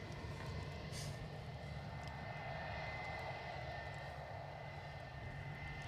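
A steady, distant roar of an aircraft engine at Edinburgh Airport, a broad continuous rumble holding level throughout with no voices.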